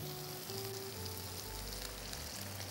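Hot oil with ginger and garlic paste sizzling in a pan as water is poured in, a continuous crackling hiss with low bubbling, fairly close and steady.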